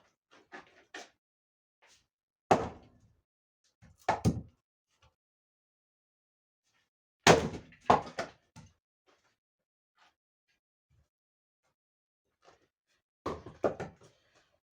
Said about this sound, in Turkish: bunları fazla da parçalamayacağım. Ne kadar az parçalanırsa o kadar uzun yanıyor.